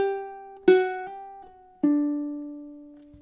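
Plucked ukulele melody line for measure 5 of a picking-speed exercise, three clear ringing notes with a quick hammer-on and pull-off slur between attacks, each note decaying slowly, close and alone without voices.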